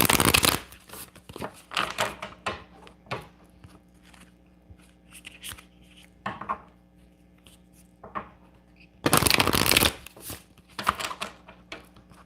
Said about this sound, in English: I'm going to give my oracle cards a good shuffle.